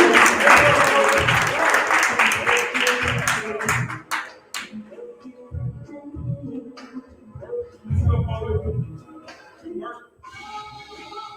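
An audience at a poetry slam applauds with dense, loud clapping that fades after about four seconds, and a voice then speaks over quieter room sound.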